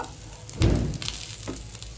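Egg-coated chicken roll frying in a pan, a brief close sizzle that flares up sharply after a moment and then settles into a softer crackle, with no voices.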